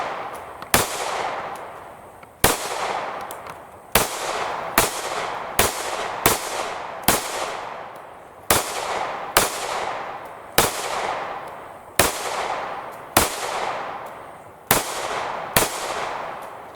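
A SIG P365 X Macro pistol fired at a shooting range, about a dozen sharp single shots spaced irregularly about one to two seconds apart, each cracking loudly and then ringing out.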